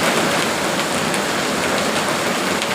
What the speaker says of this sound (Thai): โอ้ฝนตกหนักพี่น้อง ฝนตกเบิดมือบัดเป็นพายุ